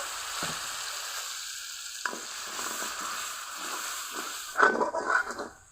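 Turmeric, roasted spice powder and chili powder sauté in a pan with a splash of water for an egg and radish-leaf dish. A loud, continuous close sizzle is broken by scraping stirs, with a sharper burst near the end.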